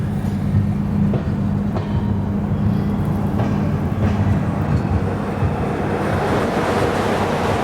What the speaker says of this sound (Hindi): शेड्यूल हॉल के बाद हमारी ट्रेन निकली है केशोद से